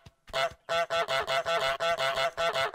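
A goose in Untitled Goose Game honks about nine times in quick, evenly spaced succession, loud and close, with nasal harmonic tones and no other sound.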